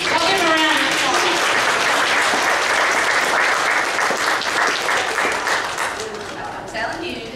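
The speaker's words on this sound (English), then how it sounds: "Y'all give a round of applause." A congregation at a Sunday morning church service breaks into loud, sustained applause, dense clapping that holds steady, then thins out toward the end.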